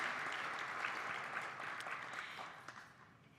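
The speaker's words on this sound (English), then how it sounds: "One more round of applause here." Audience applause at a live awards ceremony, a dense steady wash of clapping from a crowd that holds for a few seconds and then thins and fades toward the end.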